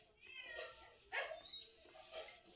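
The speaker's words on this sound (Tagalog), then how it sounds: "Hindi siya literal na meow, kundi ow, ow, ow." A hoarse cat gives a few rough, raspy meows, close by and fairly soft against a quiet background.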